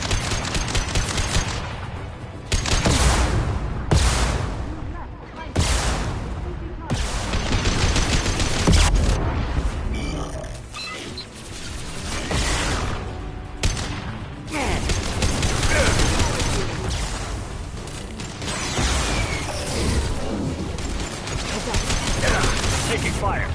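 Sustained gunfire from the sci-fi shooter Mass Effect 2, with dense, overlapping bursts and heavy volleys running almost continuously amid loud battle noise.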